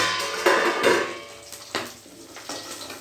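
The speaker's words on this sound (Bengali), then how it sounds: "আমি মাছ ভাজছি তো" Pabda fish frying in a hot pan, giving sharp irregular pops and spatters with a few clattering knocks against the pan over a low steady sizzle, close by with no talking.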